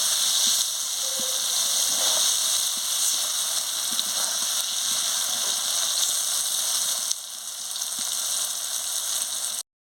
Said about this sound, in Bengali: বেগুন আর নিম পাতা দিয়ে একে ভালো করে লাল লাল করে ভেজে নিচ্ছি।